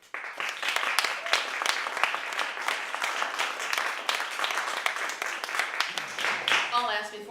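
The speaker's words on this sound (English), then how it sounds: "I'll ask before we go to the next candidate to hold our applause until the end" An audience at a Muir Beach candidate forum claps after a speech, with dense applause throughout and a voice coming in at the end.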